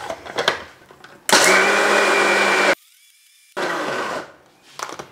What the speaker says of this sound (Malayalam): പിന്നെ മിക്സിയിൽ വെച്ച് കറക്കി എടുക്കുന്നുണ്ട്